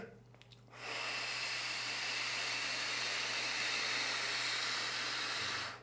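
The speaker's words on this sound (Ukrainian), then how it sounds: "Вдих. Видих. Вдих." Slow breathing exercise: a single long, steady breath hisses continuously for about five seconds, soft and close, with a brief faint sound before it and no talk.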